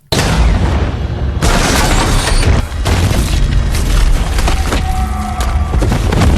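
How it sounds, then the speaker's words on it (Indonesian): A dock hit by a drone erupts in a film scene with a loud, sustained explosion, a dense roar of blasts and debris crackling on for several seconds, with bursts like gunfire mixed in. "Ledakan besar terjadi, menciptakan kekacauan yang menguntungkan Fine."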